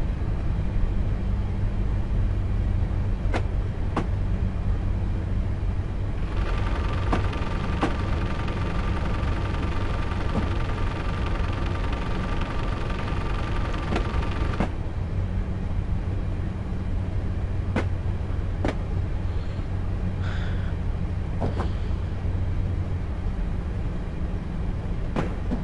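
A small train on the Isle of Wight line in Train Simulator 2013 rumbles along steadily with a low continuous drone, a tonal whine joining in midway and a few sharp clicks from the track.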